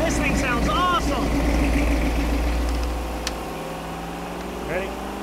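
A Ford 460 big-block V8 rumbling through Super 40 mufflers, a loud, deep, steady exhaust note under a person talking, easing slightly in level partway through.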